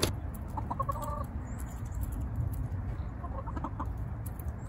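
Hens cluck softly in short bursts, a couple of murmured clucking phrases over a low rumbling background, no talking.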